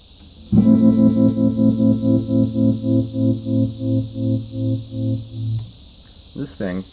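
Sustained guitar chord through an envelope-following tremolo pedal set to its slowest speed, swelling in broad, slow pulses that gradually fade; loud and close, followed by a short burst of a voice at the end.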